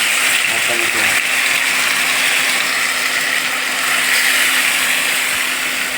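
Marinated chicken hits hot oil in a pan for a chicken gravy, giving a loud, steady, close-up sizzle that hisses evenly from start to finish with no voices.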